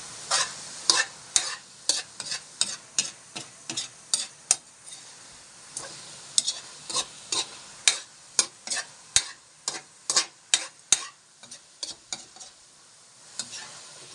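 Chicken pastil cooking in a pan, with a regular series of sharp scraping strokes from a utensil stirring against the pan over a soft simmering sizzle. The strokes are close and evenly spaced, and no one speaks.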